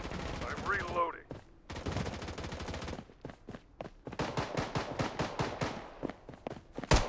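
Bursts of rapid automatic gunfire and single shots crack repeatedly in Call of Duty Mobile, loud and close, with brief pauses between volleys and a few footstep-like taps.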